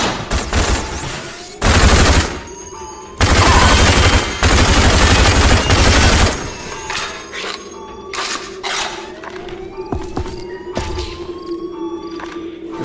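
Automatic gunfire from a first-person shooter, Rage, in loud sustained bursts up front, then scattered shots and mechanical clatter amid game ambience.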